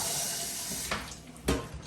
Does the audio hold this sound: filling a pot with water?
yes